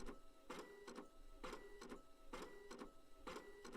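A printer running, its print head sweeping back and forth in a steady repeating rhythm of whirring passes, quiet and mechanical with no talk over it.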